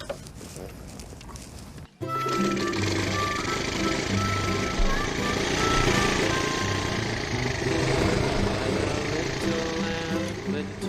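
A small motorcycle revs up from a brief quieter stretch into a steady, loud buzzing engine drone during a test ride, holding close and continuous for the rest of the clip.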